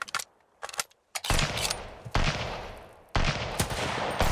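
Gunfire in the survival game Sunkenland, with a few sharp separate shots followed by long loud bursts of automatic fire that cut off abruptly.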